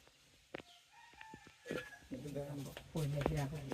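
A chicken about to be butchered clucks and squawks nearby in short, scattered calls, with people talking over it for much of the time.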